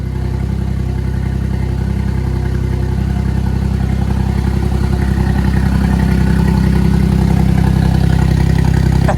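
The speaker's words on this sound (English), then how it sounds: "That doesn't sound like a 3-cylinder 660cc engine" A small 3-cylinder 660cc engine runs steadily after first start-up, its exhaust note loud and close with a throaty, slightly clattery low rumble that holds continuously without pauses.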